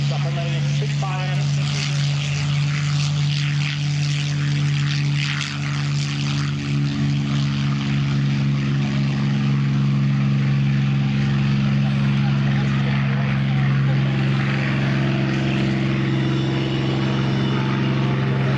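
A Spitfire propeller aircraft drones loudly and steadily overhead for a long stretch at an air show, its engine a deep constant hum with rushing noise, and a voice faintly underneath.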